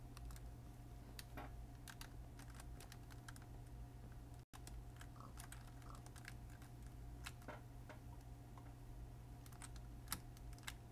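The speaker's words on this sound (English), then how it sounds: "I suppose the keyboard does sound a bit like people clapping" Steady computer-keyboard typing, quiet irregular clicks over a constant low hum, with a brief dropout partway through.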